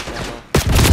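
Gunfire in a first-person shooter game erupts suddenly after a quieter stretch, a loud dense burst of shots filling the rest of the moment.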